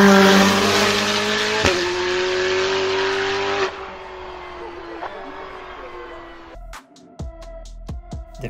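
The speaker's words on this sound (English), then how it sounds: "Listen to this twin-turbo V8." A sports car's twin-turbo V8 roars loudly at high revs, then drops to a lower idle before a few sharp blips of throttle near the end, heard close and alone.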